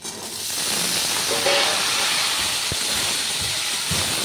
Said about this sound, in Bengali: আলুটা আগে ভেজে নিই।